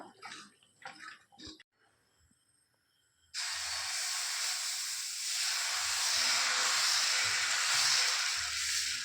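Dosa batter is poured onto a hot pan and starts a steady, loud hissing sizzle after a few quiet seconds, with faint kitchen clatter before it.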